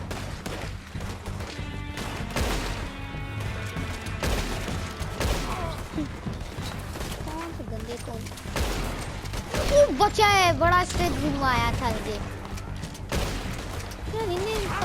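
Gunfire crackles in the Red Dead Redemption 2 shootout against Colm O'Driscoll's gang, with scattered bursts and impacts mixed under game music and effects while a player talks throughout.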